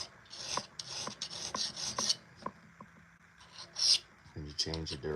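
Repeated rasping strokes of a file scraping across a pocket knife blade, steady back-and-forth rhythm, close by, with a few brighter scrapes and a short buzzing burst near the end.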